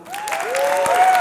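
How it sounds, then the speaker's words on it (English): An audience claps through a brief burst of applause, steady and close, with a few voice-like tones rising over the clapping. "Can we give Steven Alvaro a round of applause?"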